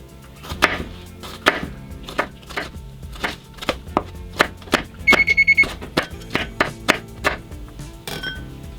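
A knife mincing jalapeño on a cutting board for a relish makes rapid, sharp, evenly spaced chopping taps that are close and clear. A brief electronic beep sounds partway through.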